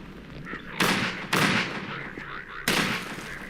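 Gunfire rings out in the video game Half-Life 2: Lost Coast, three sharp, loud shots at uneven intervals, each followed by a brief decaying tail, over a quiet background.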